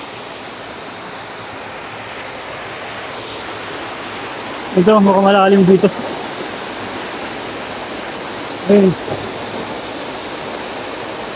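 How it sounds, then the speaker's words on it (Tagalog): The Talon Butas waterfall in Castañejos Lejos, Bailen, Cavite, gives a steady, even rushing roar of falling water, with a person briefly speaking over it twice. "Ito na yung falls."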